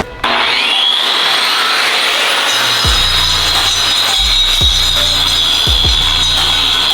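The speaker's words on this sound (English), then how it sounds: "So these guys are out here sanding." Workers sand outdoors in heavy rain, a loud, continuous whirring grind that runs without a break, with a few deep knocks and thumps spaced through the second half.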